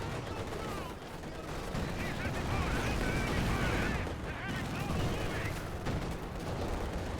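Tank and infantry gunfire in a Company of Heroes 2 match, with a T-35 tank firing amid dense, continuous battle noise: shots, blasts and rumble overlapping steadily throughout at fairly even loudness.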